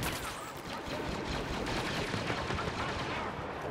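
Blaster gunfire in a Star Wars Battlefront match, a dense, continuous barrage of overlapping shots and explosions that fills the whole clip at an even, moderate level, with no voices.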